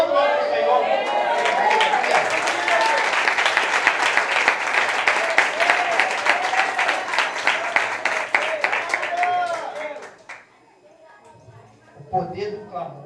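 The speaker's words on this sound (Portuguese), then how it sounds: "Aplauda o nome do Senhor." A church congregation applauds loudly and steadily for about ten seconds, a dense wash of many clapping hands that then fades, followed by a voice speaking briefly.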